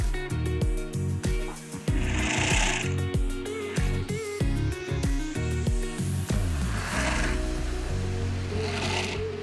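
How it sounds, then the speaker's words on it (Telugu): An industrial sewing machine rattles and clacks in a fast mechanical rhythm as it stitches a latex mattress in a mattress factory, loud and close, with a steady motor hum beneath it and no speech. "ఇట్లా స్టిచ్చింగ్ చేస్తామన్నమాట మిషన్లో."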